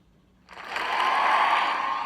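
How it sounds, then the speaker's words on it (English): A played-back recording of a studio audience swells up after half a second of quiet into a broad, sustained wash of cheering and applause-like crowd noise that holds steady. "Hey Google, play the sound of a studio audience laughing."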